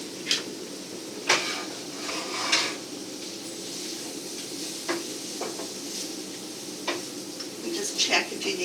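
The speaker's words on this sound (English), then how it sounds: "Now we'll give this all a little stir." A spiced coconut-oil dish being stirred in a pan, with a series of sharp scraping clinks of the utensil against the pan at irregular intervals over a low steady background sizzle.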